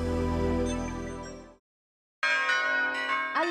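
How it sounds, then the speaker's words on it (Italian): Church bells of the Sanctuary of San Pompilio in Ariano ring with rich, resonant tones that fade out, then after a short silence a brighter peal of bells strikes again. "mentre suonano le campane del santuario di San Pompilio"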